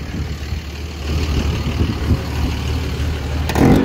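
A pickup truck used for hotshot trucking idles with a steady low engine rumble, with some background hiss and a brief louder shift at the very end.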